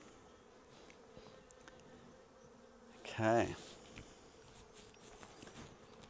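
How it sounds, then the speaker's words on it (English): Honey bees hum in a steady soft drone around an open hive, with a brief spoken word partway through and light handling noise. "These bees are being reasonably friendly today, which is good."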